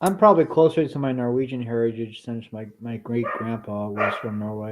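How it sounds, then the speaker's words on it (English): A dog barks a few times in the background while someone talks steadily over it. "Whose dog was that?"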